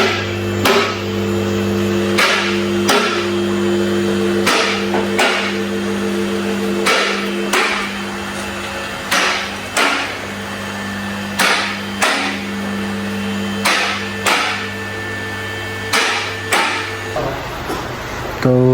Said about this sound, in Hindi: अभी इसके व्हील खोलने लगे हैं।